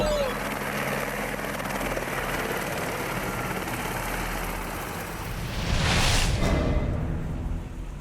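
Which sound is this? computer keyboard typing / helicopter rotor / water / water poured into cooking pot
helicopter rotor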